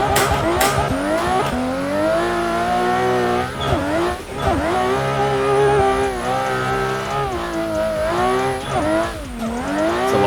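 A BMW E92 race car in Assetto Corsa revs loudly and steadily throughout, its engine note rising and falling through gear changes with brief dips, with tire squeal mixed in and no one speaking.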